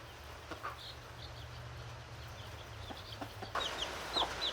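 Mother hen of mixed breeds, including barred rock crosses, clucks softly beside her newly hatched chicks, with a few higher peeps; the sounds are faint and scattered over a steady low hum.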